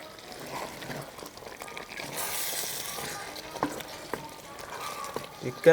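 A curry of chicken and ash gourd is stirred in a hot pan, with a steady close sizzle and bubbling broken by scraping strokes of the spoon.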